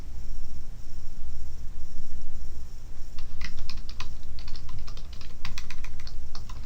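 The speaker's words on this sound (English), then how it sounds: "I'm going to start keying the first couple of paragraphs" Rapid, uneven keystrokes on a computer keyboard during a five-minute typing timing, clicking in dense bursts over a steady low hum, close and alone with no voices.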